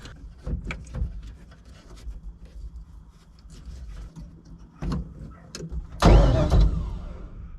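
A 5.3 V8 swapped into a Nissan 240SX drift car cranks and fires up after a starter wire fix, a burst of loud engine roar following several seconds of quiet clicks and shuffling nearby.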